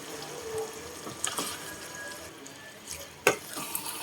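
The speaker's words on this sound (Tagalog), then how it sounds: "halo-haloin lang natin. Hanggang ma-distribute yung kanyang sugar" Biko, a Filipino sticky rice cake, gets stirred with sugar in a pan, making soft scraping and sticky churning sounds with a couple of sharper utensil knocks near the end, close and moderately quiet.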